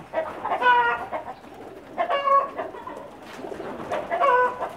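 Pakistani pigeons held in the hand and shown off, with fowl-like calls rising in three distinct bursts over a low background murmur, with no talking.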